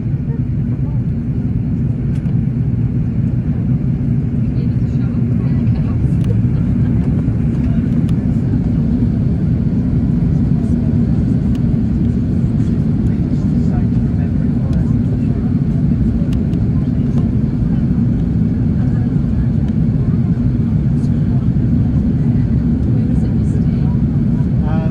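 Steady, loud low-frequency roar of a Virgin Atlantic Airbus A330 cabin in economy during the landing approach into Barbados, a continuous engine and airflow drone with faint clicks and rustles on top, no talk.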